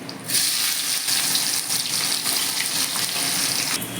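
Sliced onions dropped into hot oil already tempered with bay leaves and whole garam masala, giving a loud, steady wet sizzle that keeps going without a break and with no voices.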